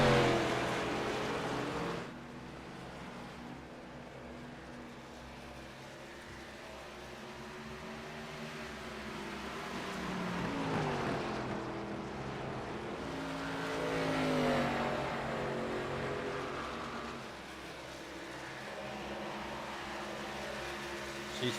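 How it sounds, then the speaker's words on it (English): Race cars circle an oval track at Iowa during an ARCA event, engines droning and swelling as cars pass and fade, a continuous moderate roar with rising and falling pitch sweeps. "See Stephen Hayes getting passed by the 11 car of Ricky Mosier."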